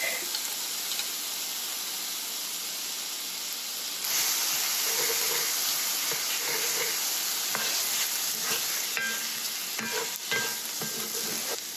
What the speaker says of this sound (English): I'm just gonna cook these for a few minutes in the pork fat until they start to get just a little color on them